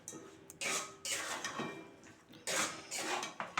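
Faint clinks and scrapes of metal cookware sound as a spatula mixes prawn and cauliflower in a pot and a lid is set over it, several quiet bursts close by with no talking.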